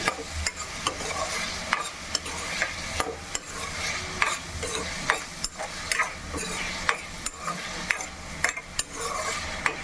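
Curry leaves frying in oil with a constant sizzle, punctuated by regular clinks and scrapes of a spoon stirring against the pan, close up.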